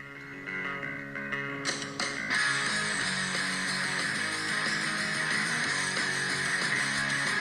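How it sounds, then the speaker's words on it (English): A bass guitar riff opens the track, then a full band with bright cymbals crashes in and keeps driving at steady volume. "It's got a sick bass lick right in the opening."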